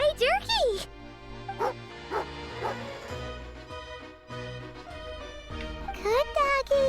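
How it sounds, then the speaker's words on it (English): Dog in a video game yelping and barking in short bright bursts at the start and end, with whimpering cries in between, set against game music and character voices. "Good doggy."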